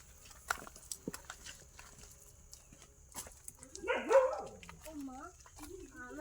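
A dog barks a few times and then whimpers and yips in rising, whining tones, with a person talking nearby, at a home where the dog has been let loose.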